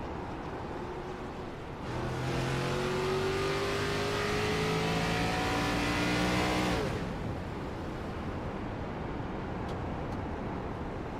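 Race car engine in a NASCAR-style racing game at Richmond Raceway, rising and falling with repeated clutching, swelling into a loud, steady revving roar for about five seconds before easing back to a quieter engine hum.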